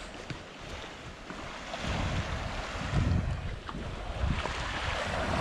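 Beach waves near Athens roll and wash in a steady rumbling surf, with wind buffeting the microphone throughout.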